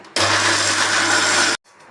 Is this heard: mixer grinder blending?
yes